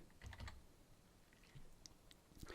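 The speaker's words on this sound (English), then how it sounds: "You can just hit Control B on the keyboard." Computer keyboard keys tapped while working in photo-editing software, a quiet run of light clicks spread across a couple of seconds, close and alone with no talk.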